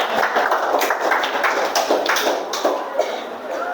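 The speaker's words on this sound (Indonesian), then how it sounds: "Beri tepuk tangan" A classroom of students claps for a classmate, a loose scatter of distinct hand claps and taps at an irregular rhythm, close and moderately loud, with some voices mixed in.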